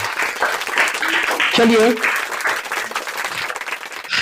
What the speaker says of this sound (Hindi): एक बार ईशा के लिए जोरदार तालियां।